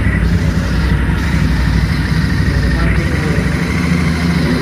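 Royal Enfield Interceptor motorcycle engine running with a steady, dense low rumble throughout, close and loud, with no clear rise in revs.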